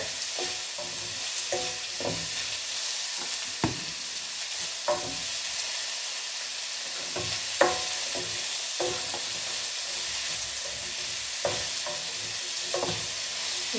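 Onions with chana dal and urad dal sautéing in a pan sizzle steadily while a utensil stirs and scrapes at irregular intervals, close and fairly loud, with no talking.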